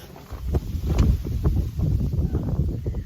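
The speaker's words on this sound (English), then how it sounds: "see how windy it is?" Gusty wind rumbles and buffets the microphone outdoors, a steady low roar with brief surges, no voices.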